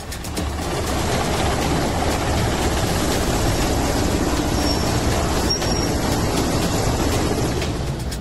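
Indian Air Force MI-17 helicopter over Lucknow during an NSG commando mock drill, a steady loud low rumble and rotor throb that holds evenly throughout with no voices.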